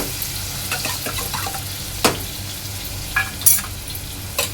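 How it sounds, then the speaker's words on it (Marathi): Finely chopped onion fries in oil for prawn pulao, making a steady low sizzle with a few sharp clinks and scrapes of stirring in the pan and no voices. "आता ह्यामध्ये मी ॲड करणार आहे आपला बारीक चिरलेला कांदा। कांदा चांगला तेलामध्ये शिजवून घ्यायचा आहे"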